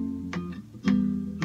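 A few plucked acoustic guitar notes from the next melody phrase of a song, three soft attacks spaced unevenly, quiet and close with notes ringing between them.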